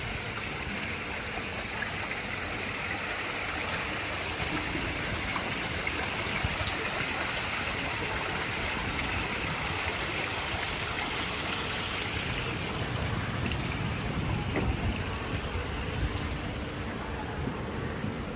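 Water trickles steadily in a hotel pond in Pattaya, Thailand, a constant close wash of flowing and splashing that holds even from start to finish, with no voices.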